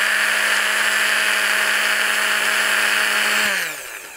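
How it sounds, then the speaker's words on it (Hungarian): A stick blender running off a 12V-to-230V pure sine wave inverter in a camper, a loud, steady high-pitched motor whine held for several seconds before it switches off and winds down at the end. "akkor akár foghatod a botmixert"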